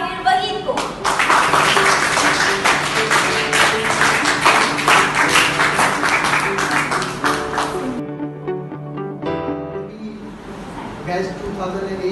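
Loud, sustained audience clapping greets a hepatitis presenter, Hakeem Tahir Waheed, at an event hall, with a dense steady patter for about eight seconds before thinning out into scattered claps.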